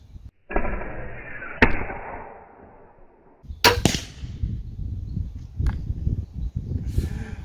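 A crossbow bolt at about 250 feet per second strikes a 2 mm titanium armor plate. A sharp release is followed by a loud thump, then rattling and handling clatter nearby.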